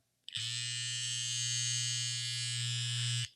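An electric beard trimmer switches on with a sharp start and buzzes steadily at a constant high whine for about three seconds before cutting off.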